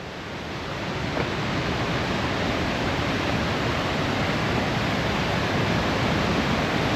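A waterfall flowing beneath Highway 2 in Washington, a loud, dense, unbroken rush of falling water filling the space, close and steady with no voices.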